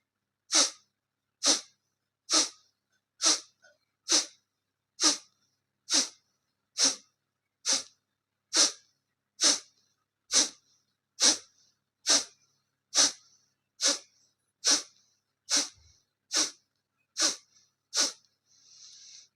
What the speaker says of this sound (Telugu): మనం ఫోర్స్గా పొట్ట నుంచి గాలి బయటకు పంపించాలి